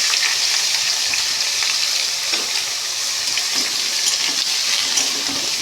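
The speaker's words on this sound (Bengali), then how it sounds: "এগুলোকে একটু হালকাভাবে ফ্রাই করে নেব।" Potatoes frying lightly in hot oil give a loud, dense, continuous sizzle close to the pan, steady throughout with faint stirring underneath.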